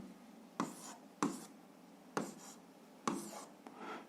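A pen writing out a math answer by hand on paper: four faint, separate scratchy strokes in a quiet room, each a short burst that tails off.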